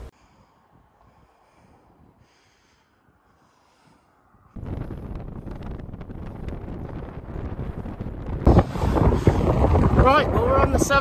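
Strong headwind roars over the microphone of a bicycle crossing the Severn Bridge. The buffeting starts suddenly after a quiet stretch and stays loud, rising further near the end, with no talk.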